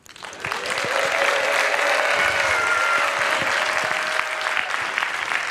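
A TEDx audience of about 1000 people applauds steadily, dense clapping with some cheering, sustained and loud throughout.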